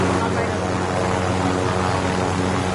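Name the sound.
helicopter, from a video game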